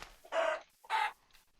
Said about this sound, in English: It can fly. Chickens can actually fly now.